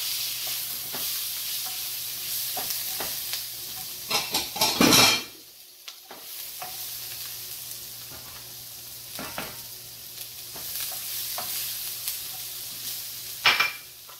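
Onions and mushrooms sizzle steadily in a pan while a utensil stirs and scrapes them, with a few louder clanks against the pan and a short pause in the frying partway through.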